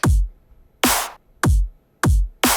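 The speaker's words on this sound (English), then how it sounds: "Arrange the kick and the snare so they sound like this." A punchy dubstep electronic drum pattern: deep booming kicks alternating with bright, noisy snare hits, loud and dry with short gaps between.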